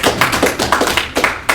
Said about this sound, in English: Getting applause out here.